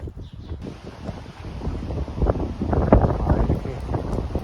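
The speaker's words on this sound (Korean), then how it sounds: "오늘 바람이 엄청 세게 붑니다." Strong wind gusts along the Portuguese Camino de Santiago between Airas and Porto, a rough buffeting roar against the microphone that starts quieter and builds into louder, steady blasts.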